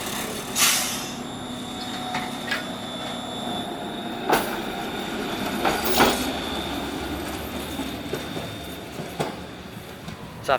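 A Mattapan line trolley passes close by with a steady rolling rumble, sharp metallic squeals and clanks breaking through at intervals, and a high sustained whine over the pass.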